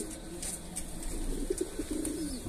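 Mardin pigeon chicks coo softly in a loft, a few low, gentle burbling coos with faint chirps over quiet background hiss.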